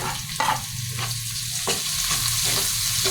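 Garlic and onion sauté in a hot pan, a loud continuous sizzle broken by rhythmic scraping strokes as a utensil stirs, close and without talk.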